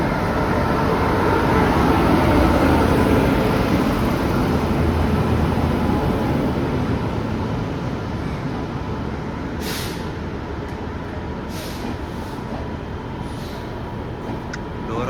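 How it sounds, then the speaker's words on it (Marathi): A Janshatabdi passenger train rolls into a station with a loud, steady rumble that eases slightly, and sharp air-brake hisses burst out several times near the end. "तर मित्रांनो ट्रेन आली आहे जनशताब्दी"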